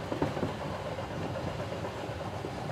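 A train runs steadily in an adventure audio drama, a continuous low rumble of rolling carriages heard at an even, moderate level.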